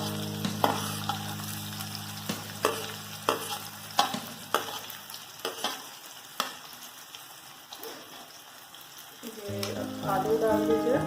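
Onions and whole spices (cloves, cardamom, cumin, carom seeds) frying in hot oil in a pan for vermicelli pulao, a steady sizzle broken by repeated sharp clinks and scrapes of a stirring spoon, with a louder burst of sizzling near the end.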